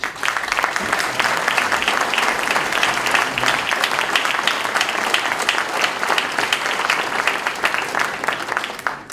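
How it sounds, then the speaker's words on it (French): Sustained audience applause at a New Year's greetings ceremony, dense and steady for about nine seconds with no voices over it. "Cela mérite tous vos applaudissements."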